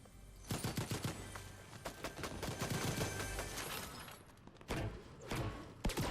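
Players fight a boss in Fortnite with rapid bursts of gunfire, clustered shots and fusillades at moderate distance, fairly quiet overall with brief pauses between volleys.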